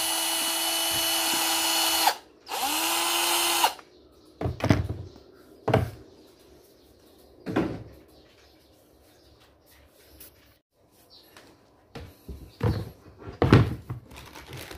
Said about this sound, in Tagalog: Ito po yung naka-brush natin na drill